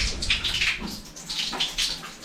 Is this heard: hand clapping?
no